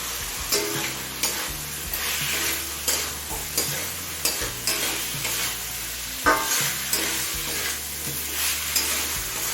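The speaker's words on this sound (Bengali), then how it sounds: "টমেটো দিয়ে আরও তিন চার মিনিট কষিয়ে নিয়েছি" Tomato sautéing in a hot pan for a cabbage curry, with a steady close sizzle broken by repeated scraping stirs of the spoon and no talking.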